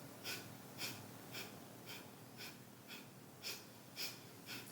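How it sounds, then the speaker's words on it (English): Breath of fire yoga breathing comes as a series of quick, forceful nasal exhalations, roughly one per half second. They are close and fairly soft, and nobody talks during them. "and then we're going to do the breath of fire."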